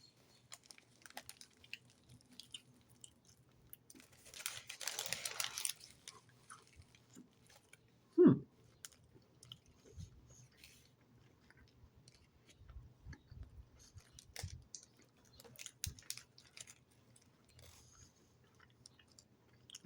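Chewing on a Burger King Philly cheesesteak wrap, faint crunchy bites and soft mouth noises close to the mic, with a sharper crunch near the middle and quiet chewing continuing after, no talking.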